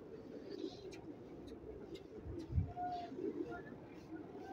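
Pigeons coo softly in a loft of fancy pigeons kept for flying, with a low rounded coo rising briefly near the middle over steady outdoor background noise and a few faint chirps.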